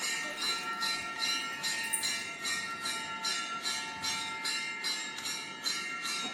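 A bell ringtone plays from a mobile phone, repeating rapid, evenly spaced ringing strikes with a bright metallic tone throughout. It is steady and moderately loud, with no speech.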